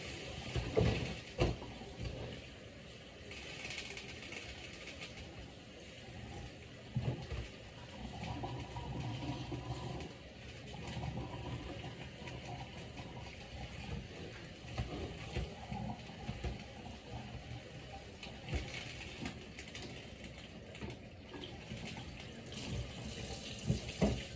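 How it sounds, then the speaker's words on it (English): Cold water from a kitchen tap pours steadily over collard greens in a sink, a continuous close splashing rush with small shifts in intensity as the leaves are moved under the stream, no talking. "Running my cold water through this."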